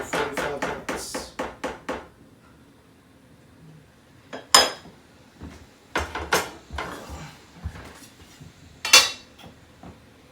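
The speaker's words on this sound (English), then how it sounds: "And we'll cover with the lid and let this simmer for 45 minutes." A metal lid goes onto a simmering pot on a stovetop with a quick cluster of close clinks and clatters, then scattered louder taps and knocks of cookware against a quiet background.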